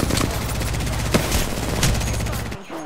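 Rapid automatic gunfire rattles continuously in a video game shooter, loud and dense with a few heavier bursts, cutting off abruptly near the end.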